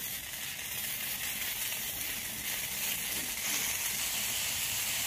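Ginger paste hits a pan of papaya, potato and chickpeas cooking for a vegetarian curry, giving a steady, soft, close sizzle and hiss throughout.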